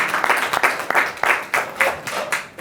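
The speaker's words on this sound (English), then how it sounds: "Basel, please, round of applause for Basel." An audience at a talk on social business claps in a short burst of rhythmic applause, moderately loud and close, with no voices over it.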